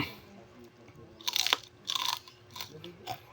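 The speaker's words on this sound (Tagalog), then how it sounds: "this is my first time to eat onions, yung fresh" Crunchy bites into a raw fresh onion, followed by chewing: four or five close, moist crunches come in separate bursts over a few seconds against a quiet room.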